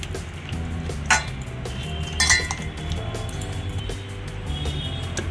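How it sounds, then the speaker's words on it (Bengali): Raw fish pieces are mixed with turmeric, salt and spices in a bowl, with scattered light clinks and knocks against the dish over a quiet background, including a couple of sharper clatters. "আমি মশলাগুলো ভালোভাবে মাখিয়ে নিচ্ছি"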